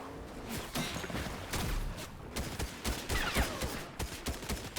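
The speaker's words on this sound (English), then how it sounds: "Somebody else is shooting at us from somewhere." Video game gunfire: rapid bursts and single shots crack out in an uneven rhythm, with short pauses between volleys, fairly loud and with no talk over them.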